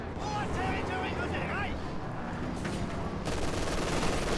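Steady crackle of infantry small-arms fire and bursts of gunfire in the video game Company of Heroes 2, dense and continuous under a caster's speech, with a sharper volley near the end.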